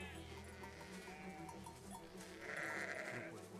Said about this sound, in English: These are some funny looking sheep.